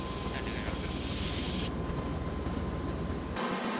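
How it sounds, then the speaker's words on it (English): An Osprey tiltrotor aircraft flies over a military training base in Saga, Japan, its engines and rotors giving a loud, constant droning roar with a steady rumble throughout. "After takeoff, the aircraft turned to the right."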